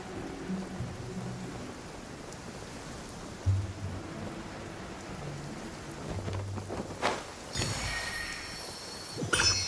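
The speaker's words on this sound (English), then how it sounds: "Oh no, it's raining!" Steady rain in the game Genshin Impact patters with low rumbles of thunder rolling in and out, and a brighter burst of noise near the end.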